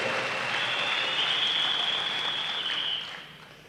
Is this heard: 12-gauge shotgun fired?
no